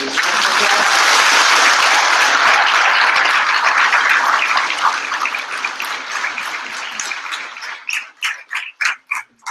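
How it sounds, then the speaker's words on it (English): An audience at a June 2015 school graduation ceremony gives loud, sustained applause that gradually thins out until only a few separate, sharp claps remain at the end. "And a great hand of applause to the"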